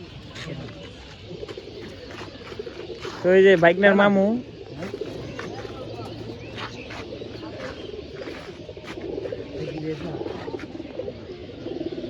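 Pigeons in a pigeon loft give a loud, close burst of throaty cooing lasting about a second, then the loft settles to a softer murmur of birds while someone talks throughout.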